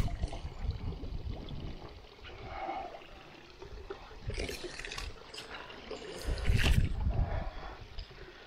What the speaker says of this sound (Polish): Poszła woda. O. Zobaczcie, jaki strumień leci.